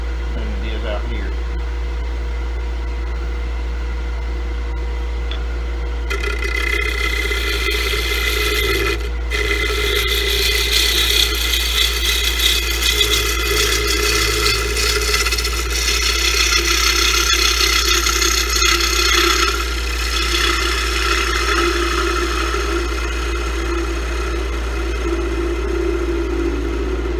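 A wood lathe spins a large bowl blank with a steady low hum while a gouge scrapes and cuts in a continuous hiss, joined by a louder cutting texture after the first few seconds.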